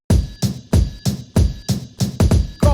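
A punchy hip hop instrumental beat played from a DJ controller, with steady, evenly spaced kicks and snares under a looping tonal layer, loud and up close, with no voices.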